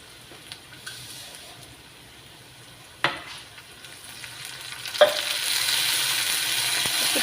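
Chopped onions frying in a pan while a chicken skin curry is cooked, a faint low sizzle jumping into a louder, broader hiss as water is added, with a few sharp clinks along the way.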